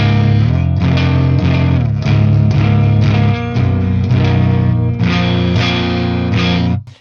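Electric guitar through a PRS MT15 amp on the clean channel with the boost engaged, loud strummed chords with slight grit ringing out in a steady rhythm for several seconds before cutting off abruptly.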